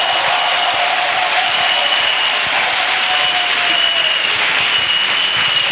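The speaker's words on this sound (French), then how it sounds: "Let's clap for Jesus." A church congregation claps for Jesus during a bilingual French-English service, steady dense applause filling the room at full volume with no voices on top.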